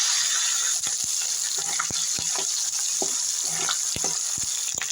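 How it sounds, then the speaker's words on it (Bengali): Ginger frying in a cleared spot among fried potatoes and cauliflower in a pan, a steady loud sizzle with scattered sharp pops and crackles throughout. "আদা বাচ্চাটা দিয়ে ভেজে নেব একটু"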